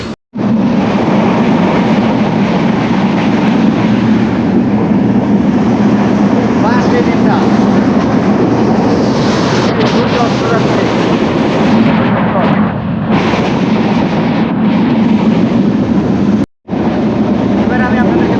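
A Bangladeshi passenger train runs along, heard from inside a nearly empty coach as a loud, unbroken rumble and roar with a voice speaking over it throughout.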